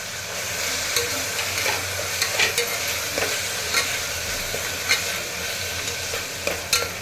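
Tomato frying in a pan with onions for vegetable kurma, a steady close sizzle broken by regular scraping stirs of a spoon against the pan, with no voices.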